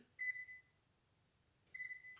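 A kitchen oven timer beeps twice as it is being set, two short clear electronic beeps about a second and a half apart in a quiet room.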